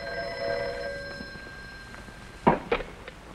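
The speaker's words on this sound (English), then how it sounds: "That was Ratka on the phone?" A telephone rings in an indoor drama scene, with steady electronic ringing tones for a few seconds before a couple of louder clicks or knocks near the end, no voices.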